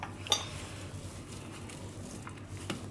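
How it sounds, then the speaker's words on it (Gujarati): Spice masala stirred with oil in a bowl for stuffed brinjal bhajiya, with a sharp spoon clink at the start, faint scraping and a second soft knock near the end, quiet and close. "તો થોડુંક તેલ નાખશું આપણે. ખાલી મસાલો બધો મિક્સ થાય એટલું બસ."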